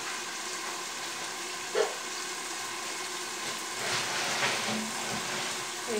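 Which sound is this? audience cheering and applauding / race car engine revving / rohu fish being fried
rohu fish being fried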